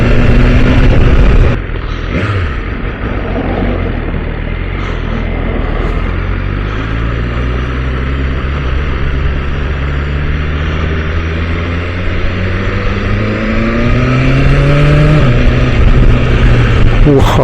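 BMW S1000RR sport motorcycle engine pulling hard while riding, with rising harmonic sweeps as it climbs through quick-shifted gears, steady and loud with strong wind rush throughout.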